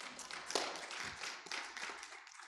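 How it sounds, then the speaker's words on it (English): An audience at a church youth conference night breaks into steady, dense applause, a continuous wash of many hands clapping at a fairly even level for a couple of seconds. "Come on now, y'all can clap for that one"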